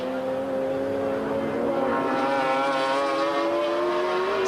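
A McLaren F1 GTR races at Monterey in a 1995 BPR Global GT Series event, trailing smoke. Its engine holds a loud, steady, rising drone alongside other race cars, with no commentary audible.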